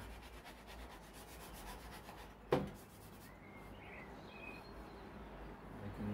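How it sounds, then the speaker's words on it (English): Soft, steady rasping of hand sanding on a wooden guitar neck, continuous back-and-forth rubbing with one sharp knock partway through, quiet and close. "Just needs a little sanding, not too much."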